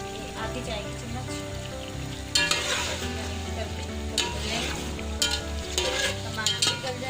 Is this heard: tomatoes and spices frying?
yes